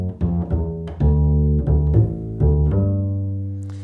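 Plucked double bass notes in first position stepping down a riff line, about seven or eight distinct deep notes with sustained ringing tones, close and clear, alone with no talk.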